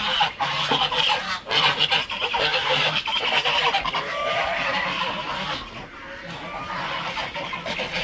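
Ducks out on a farm on a rainy day, honking and quacking in a loose, continuous chorus at close range over a steady wash of rain, with no talking.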